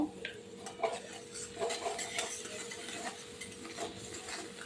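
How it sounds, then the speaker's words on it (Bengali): Mustard spice paste cooks in oil in a pan while making a pabda fish dish. A utensil scrapes and stirs the pan in soft repeated strokes over a faint sizzle, heard close and without speech. "মশলা কষাটা হচ্ছে, দেখুন তেল ছেড়ে দিয়েছে"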